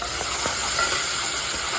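Ginger garlic paste fries in hot oil with onions for a pulao, giving a steady sizzle broken by a few scrapes of stirring, close and continuous with no talking.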